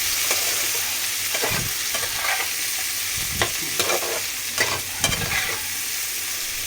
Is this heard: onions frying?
yes